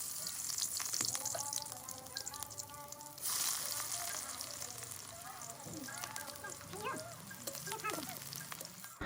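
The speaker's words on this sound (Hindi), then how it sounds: "और इसके बाद इनको फ्राई किया जाएगा।" Chana dal fare dumplings frying in oil, a constant crackling sizzle close by, with intermittent tonal clinks and a voice faintly in the background.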